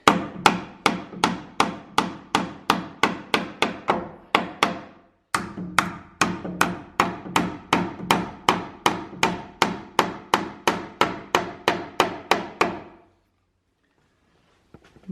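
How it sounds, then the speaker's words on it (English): Nails hammered into a wooden wall stud during house framing, a long run of sharp, evenly paced hammer blows up close, with a short pause midway, then silence at the end. "And then there's 2 nails on here, so you nail that to the stud."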